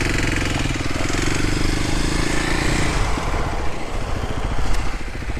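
A Kawasaki KLX300SM single-cylinder supermoto motorcycle engine runs loud and steady close by, a dense throbbing note that roughens and shifts after a few seconds as the throttle changes.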